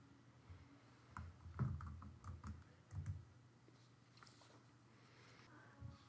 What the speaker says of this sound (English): In the search bar at the top, type TEAS and hit Enter.